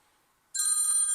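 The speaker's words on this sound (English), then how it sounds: "my phone is ringing" A phone ringtone suddenly starts after a quiet moment, a loud, bright electronic tone holding steady.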